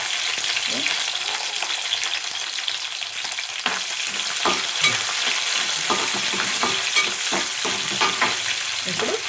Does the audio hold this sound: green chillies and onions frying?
yes